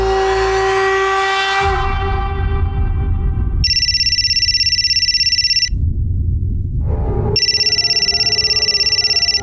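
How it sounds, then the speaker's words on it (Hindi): A telephone rings in a dramatic television scene, with loud, repeated electronic ring bursts separated by a pause over a low musical background. "काम्या का फोन इस वक्त?"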